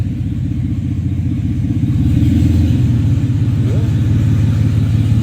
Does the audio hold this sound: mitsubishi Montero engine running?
yes